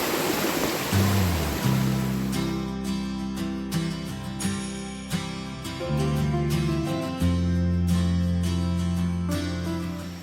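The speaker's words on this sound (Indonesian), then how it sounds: "Dan ini merupakan sungai yang kedua teman-teman." A river stream on the trek to Curug Penganten waterfall in Baturaden, Banyumas, rushes loudly as broad, hissing water noise for about two seconds before music takes over and buries it.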